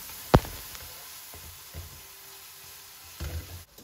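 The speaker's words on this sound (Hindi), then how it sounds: "अब हम इनको भूनेंगे तब तक जब तक टमाटर जो है ना वो नरम नहीं पार जाते" Tomatoes and cumin fry in a pot for beef kabuli pulao, a faint, steady sizzle under a sharp knock near the start and a few soft clunks of utensils later.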